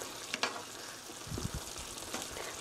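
Curry tteokbokki stirred in a pan, with soft, close scraping and light sizzling in a quiet kitchen, a few brief clinks and low stirring thumps near the middle.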